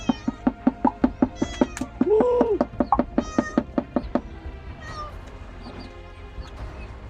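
A cat meows while being fed, with repeated loud sharp knocks or taps in a steady rhythm through most of the clip and a drawn-out meow among them, close by before things quiet down.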